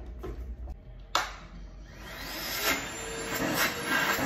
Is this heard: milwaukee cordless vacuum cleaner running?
yes